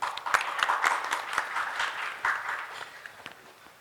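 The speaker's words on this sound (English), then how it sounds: "A big round of applause to everyone present here." Applause from a panel discussion audience, fairly faint and scattered, with individual claps standing out briefly before trailing off.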